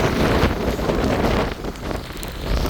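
Strong cyclone wind in Jaffna buffets the microphone with a loud, constant roaring rush that rises and dips slightly, no voices present.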